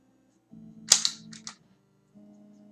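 Zapper gunshots in the NES light-gun game Freedom Force: a few sharp electronic cap-gun cracks in quick succession over a low, steady game hum, short and crisp.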